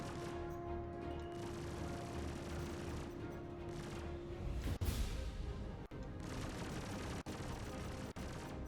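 Spaceship gunfire in Star Citizen, several sharp blasts spread across a dense roaring space-combat background with a steady engine hum, one heavier impact standing out midway.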